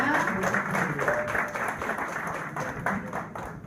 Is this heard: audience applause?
yes